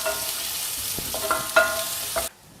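Garlic and ginger sizzle in hot oil with cinnamon, cardamom and cloves in a pan for a palak paneer gravy, a close, steady frying hiss with stirring scrapes, until it cuts off near the end.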